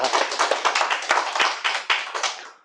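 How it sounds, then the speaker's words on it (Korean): Audience clapping at a Korean religious sermon: a few dozen scattered, uneven claps from a modest crowd, fairly close, building into a brief round and then tapering off. "박수 멋있게 쳐주셔도 됩니다"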